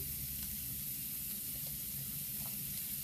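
Sliced capsicum sizzling and frying in a hot pan for chicken fried rice, a constant close crackle with faint stirring clicks and no voices.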